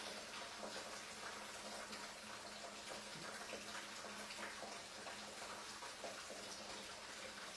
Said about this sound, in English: that water coming out of a Corvette ZR1 and dripping into an orange bucket